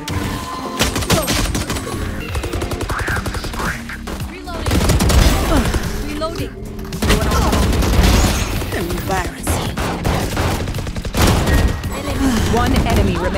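Gunfire in the tactical shooter Valorant, dense bursts and rapid shots layered with game effects and music, loud throughout, with a voice speaking briefly at times.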